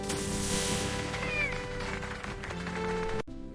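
A cartoon kitten meows in a bright, drawn-out cry over busy background music and effects, close and clear, ending with an abrupt cut.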